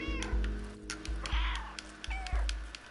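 A cat character meows in a video game, several short close meows heard over a steady rhythmic thumping game soundtrack, with no one speaking.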